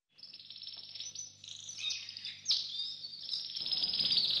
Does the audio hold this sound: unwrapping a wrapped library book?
no